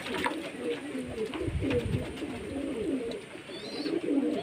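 Pet pigeons coo close by in soft, low, rolling phrases that repeat through the whole stretch, with faint background rustle.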